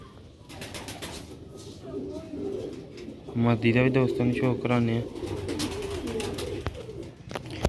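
White tiger pigeons coo in a burst of repeated low throaty notes in the middle, close by, while someone talks before and after.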